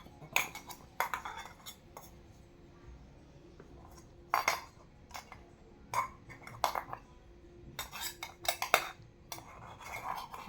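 A child plays at cooking potatoes in a small pot, making sharp, scattered clinks and taps of a utensil against the pot, some in quick bursts, with soft voices in the background.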